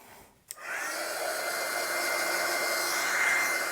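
A hair dryer blows steadily on drying paint on a mixed media galaxy artwork. It starts with a soft click, then holds an even, close, loud whoosh for several seconds with no talking.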